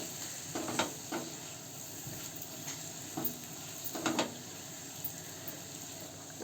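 Paneer and spices being stir-fried in a pan, a soft continuous sizzle with a few sharper clinks and scrapes of stirring, close and steady with no voices.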